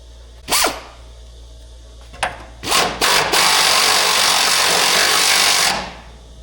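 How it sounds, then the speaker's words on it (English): An air ratchet spins a nut off a rear trackbar bolt on a Lexus GX470: a few short bursts, then one long sustained whirr, close and loud. "I'm going to get my air ratchet. I'm going to spin this thing out."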